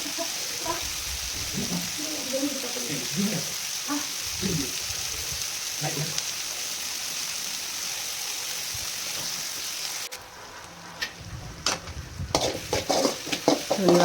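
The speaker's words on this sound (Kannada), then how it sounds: "ಸೊ ಅದಕ್ಕೆ ನಾನು ಇವಾಗ ನೀಟಾಗಿ ಫ್ರೈ ಆಗೋವರೆಗೂ ಸ್ವಲ್ಪ 2 ಮಿನಿಟ್ಸ್ ವೆಯ್ಟ್ ಮಾಡಿ" Okra (lady's finger) frying in a pan, a steady close sizzle throughout with occasional stirring scrapes, louder clattering stirs toward the end; no talking.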